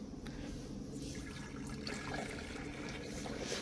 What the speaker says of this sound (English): Here we are pouring it out.